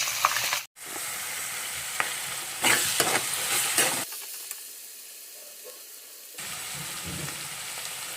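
Green chillies and onions fry in a pan with a steady close hiss and sizzle, broken by brief stirring scrapes and a short pause, with no voices.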